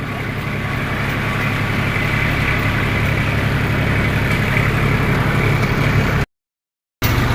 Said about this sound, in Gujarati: જંગલમાં ટ્રેક્ટર અવાજ